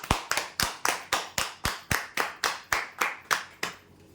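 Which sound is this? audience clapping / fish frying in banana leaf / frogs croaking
audience clapping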